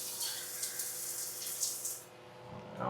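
A hotel shower in Playa del Carmen runs with strong water pressure, giving a close, steady rushing hiss for about two seconds before it drops away.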